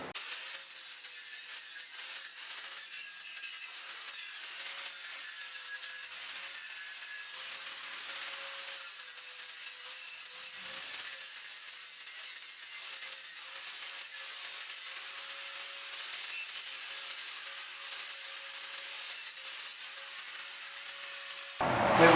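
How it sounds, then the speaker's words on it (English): Steady, continuous abrasive rasping as the edges and corners of a wooden router sled are ground flat, a constant power-tool whine with grinding texture running close and loud, no talk. "I gotta get grinding on this. I'm taking off any edges and flattening these corners out"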